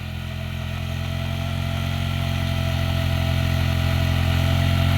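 A motorcycle engine idles steadily and loudly up close, its wheel stuck in sand, a constant low throbbing hum with no talk over it.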